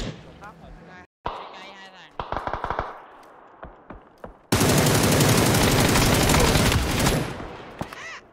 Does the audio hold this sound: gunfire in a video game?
yes